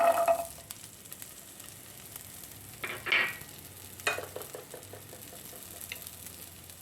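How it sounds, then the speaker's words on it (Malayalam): Sliced onions for a paneer pizza going into a pan, giving a faint low sizzle with a few scraping stirs and light clatters from a spoon, quiet and close with no talking. "ആദ്യം നമുക്ക് സവാള ഇട്ട് കൊടുക്കാം"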